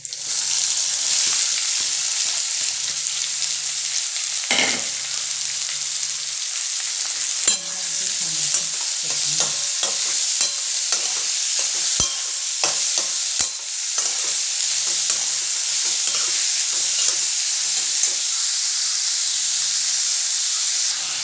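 Onion and mustard seeds frying in hot oil, giving a steady, loud sizzle and hiss throughout, with occasional stirring scrapes and small pops.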